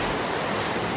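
A sewage waterfall in the sewers of Paris roars as a loud, steady wash of rushing water that fills the space without a break.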